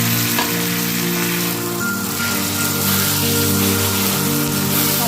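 Spice paste hits hot oil with reddish browned onions, giving a loud, dense, continuous sizzle and crackle close by that stays steady throughout.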